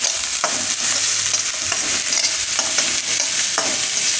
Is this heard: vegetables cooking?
yes